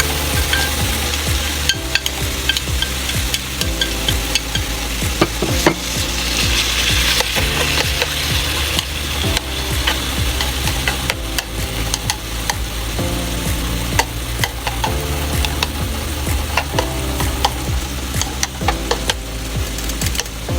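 Marinated Korean bulgogi beef sizzles loudly in a hot pan while being stirred and scraped, with frequent wooden utensil knocks over the steady frying hiss and no talk.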